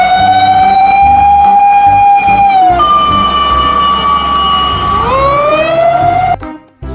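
A toy fire truck siren wails loudly in a steady electronic tone, dropping and rising in pitch before cutting off abruptly.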